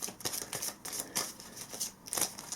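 Decks of game cards in slippery plastic sleeves are shuffled by hand for the Legendary Encounters: Alien board game, giving close bursts of crisp riffling and sliding with short pauses between them.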